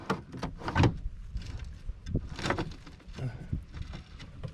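Door of an old, long-sitting Peterbilt 362 cabover truck being worked, with irregular clunks, creaks and rattles of the stiff door and handle, fairly faint and close, in separate bursts.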